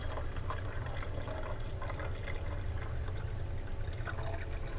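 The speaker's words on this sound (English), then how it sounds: "letting water come into this bottle" Water runs steadily into a bottle, a continuous close rushing pour that fills the whole stretch with no talk.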